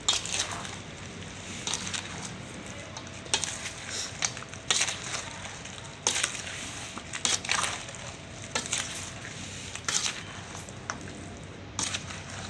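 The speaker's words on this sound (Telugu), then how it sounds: "ఆయిల్ మొత్తం ఇలా వేసాక ఒకసారి మంచిగా ఇలా కలుపుకోండి, చుట్టూ తిప్పుకుంటూ." Spices, salt and oil are stirred into mango pickle, with a wet, squishing, crunchy mixing sound in irregular strokes, fairly close and moderately loud.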